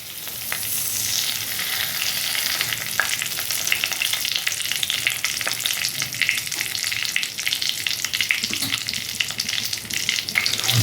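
Whole garam masala and a bay leaf crackle in hot oil with a dense, continuous sizzle and occasional pops, loud and close with no voice.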